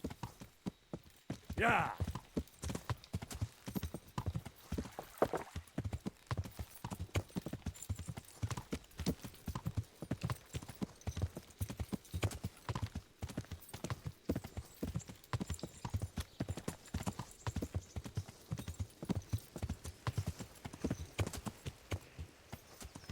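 Horse hooves clip-clop at a steady walking pace in the Kingdom Come Deliverance video game, close and continuous for the whole stretch, with a brief whinny early on and a short spoken word over the top.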